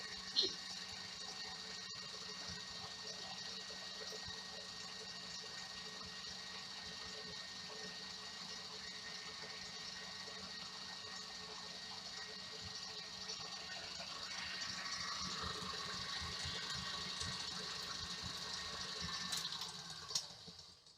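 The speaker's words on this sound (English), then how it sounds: "Now I'm just gonna leave the mixer alone, it's on high, just so that we're gonna beat these to stiff heat." Electric mixer running on high, beating egg whites into stiff meringue for a pavlova, a steady mid-level motor whine with faint rattling that holds through the whole stretch and swells slightly near the end, with occasional faint talk.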